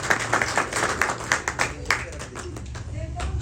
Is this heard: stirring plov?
no